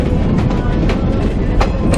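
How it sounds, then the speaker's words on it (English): Verde Valley Railroad train rolling slowly along the rails, a steady loud rumble with soft clicks of wheels over joints heard from onboard. "The train's not moving that fast"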